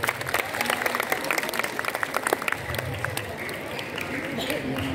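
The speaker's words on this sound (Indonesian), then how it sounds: "Tepuk tangan buat yang menjawab bergerak" Audience applause during an Islamic study talk, a dense patter of claps from a crowd with murmuring voices mixed in, steady and moderately loud throughout.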